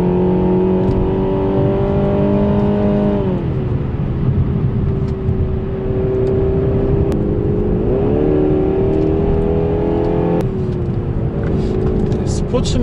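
Renault Samsung SM6 driven hard in sport mode on a mountain road, its engine droning steadily with rising and falling pitch as it accelerates and shifts, loud and continuous with road noise underneath.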